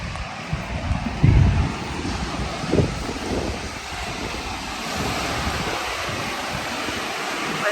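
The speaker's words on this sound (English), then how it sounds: "Waves are pretty rough today." Rough ocean surf at a Florida beach near a lifeguard stand, a steady broadband wash of breaking waves mixed with gusty wind buffeting the microphone, with a louder surge early on and no talking.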